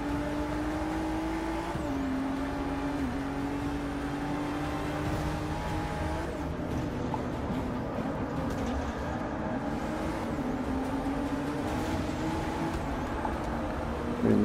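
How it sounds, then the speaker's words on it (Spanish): Racing cars overtake in the Forza Motorsport 6 video game: a continuous, loud engine whine rises and falls in pitch with a sharp gear shift early on, and no voices are heard. "vamos rebasando carros"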